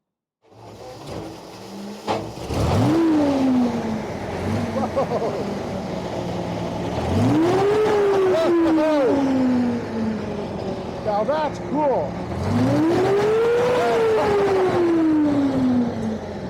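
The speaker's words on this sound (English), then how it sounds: "let's find out how this engine sounds. It's petrol, it's not diesel." Rolls-Royce petrol engine of a Centurion Mk 5/2 tank starting and revving in loud surges that rise and fall about three times, with brief speech heard over the rumble.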